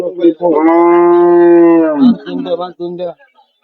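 A dairy cow lets out one long, loud, close moo lasting nearly two seconds, followed by brief voices and shuffling.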